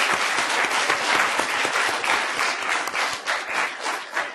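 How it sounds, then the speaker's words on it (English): An audience at a moot court competition final round applauds association members, a dense, steady round of clapping from a room full of people, close and fairly loud throughout. "if we can give a round of applause to all these members"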